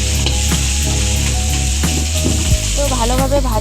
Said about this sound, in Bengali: মাথা দুটো দেওয়ার পর ভালোভাবে এটাকে একটু পেঁয়াজের সঙ্গে ভালোভাবে একটু ভাজা ভাজা করবো।